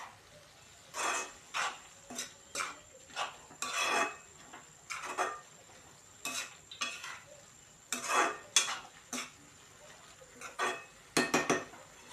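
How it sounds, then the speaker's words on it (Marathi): A spoon scrapes and clinks against a pan in short, uneven bursts as a mung bean and onion bhaji is mixed, with quiet pauses between strokes and no sizzle. "चवीपुरतं मीठ, हे सगळं मिक्स करून घेऊया।"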